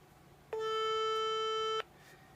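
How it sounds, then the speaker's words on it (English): One steady electronic tone plays for just over a second and then cuts off cleanly, a FreedomPop phone line ringing, with quiet surroundings before and after. "That's Freedom Pop's ring, or how it sounds when it's ringing."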